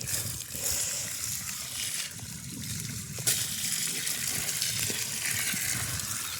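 Water flows steadily while coconut trees are irrigated, a continuous hissing splash close by with a low background rumble.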